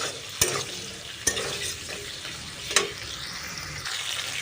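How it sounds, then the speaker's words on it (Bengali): Sliced onions frying in capsicum oil are stirred in a pan, a steady sizzle broken by a few sharp clinks of the utensil against the pan. "তো ওই ক্যাপসিকামের তেলেই বাজারতেই আমি ওই পেঁয়াজগুলো দিয়ে দিচ্ছি। দিয়ে ওগুলো হালকা নেড়ে ভেজে নেব।"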